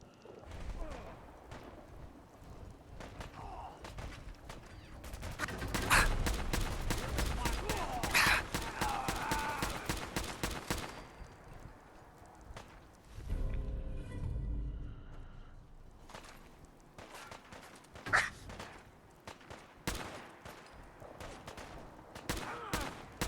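Sustained gunfire from the video game Fallout 4: a fast automatic burst of rapid shots runs for several seconds, then sporadic single loud shots and game noise follow, while a voice talks intermittently.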